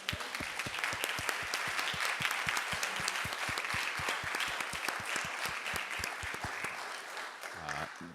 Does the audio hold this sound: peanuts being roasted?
no